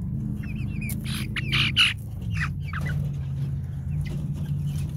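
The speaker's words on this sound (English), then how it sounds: "I like my chickens." Backyard chickens clucking and murmuring nearby, with soft overlapping low calls through the whole stretch and a few sharper squawks and rustles rising above them.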